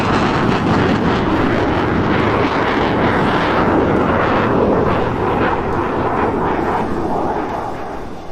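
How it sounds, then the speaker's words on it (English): A SAAB fighter jet rolls slowly over an airshow, its engine a loud, broad, continuous roar with wind buffeting the microphone, holding strong before easing off slightly at the end. "it's the slow roll. Beautiful, beautiful aircraft."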